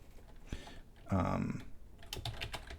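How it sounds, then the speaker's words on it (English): Scattered keyboard keystrokes, irregular and fairly close, with a brief louder burst of noise partway through; no one speaks. "I'm just going to start typing."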